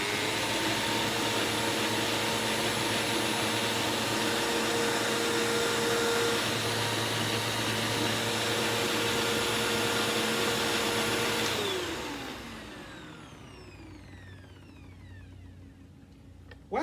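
Sanitaire professional upright vacuum cleaner running with a loud steady whining motor drone, then powering down, its pitch sliding lower as it winds to near silence.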